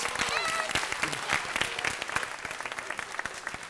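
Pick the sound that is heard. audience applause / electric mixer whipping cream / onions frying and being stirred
audience applause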